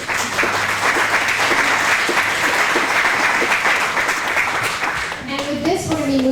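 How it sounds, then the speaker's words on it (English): An audience at a natural resources conference panel claps in a loud, dense, sustained round of applause. Near the end a voice begins speaking as the clapping thins out. "we could give a round of applause for our panel."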